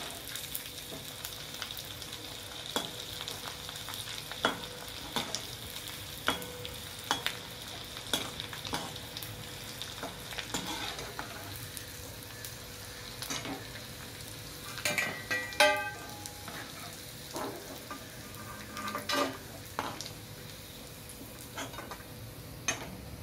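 Dried Bombay duck fish frying in a pan, giving a steady, low sizzle broken by frequent sharp clicks and scrapes from stirring, with no talking.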